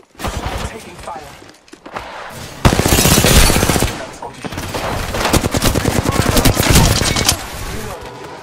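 Bursts of automatic gunfire in the Apex Legends video game crackle loudly in rapid volleys, some sustained and dense, with brief pauses between exchanges and a voice speaking among the shots.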